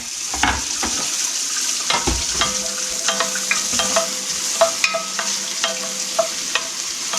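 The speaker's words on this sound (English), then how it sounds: "I'm going to add in my onions. This is going to take maybe 5" Onions fry and crackle in a pot while a utensil stirs and scrapes them in frequent, irregular clinks and knocks, close and fairly loud, with no talking.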